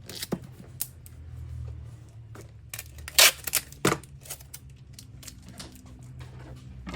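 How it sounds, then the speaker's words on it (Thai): Small adhesive tape is pulled and pressed onto a flower wreath sign, making quiet, scattered crackles, taps and tearing clicks. A sharper burst comes near the middle, over a low background hum with no talking. "เทปนะคะเทปกาวไม่ใหญ่แปะก่อน"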